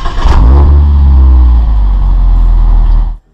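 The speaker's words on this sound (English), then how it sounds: "So the most important test of a sports car is how does it sound?" A 2021 Mazda MX-5 GT sports car engine revs hard and close, a loud sustained rising roar that holds for about three seconds and then cuts off abruptly.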